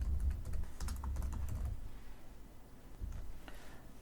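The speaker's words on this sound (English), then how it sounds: "I'll type appointment date here." Steady soft clatter of keys being typed on a computer keyboard, a continuous quiet run of taps with a short lull before resuming.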